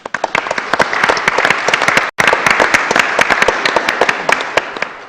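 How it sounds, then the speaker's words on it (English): Audience applause at a city commission meeting in Lynn Haven, Florida, honoring military personnel: dense, steady clapping from a mid-sized crowd, close and loud, with a brief break near the middle before it resumes. "would you just join me in a round of applause for all that they do for us?"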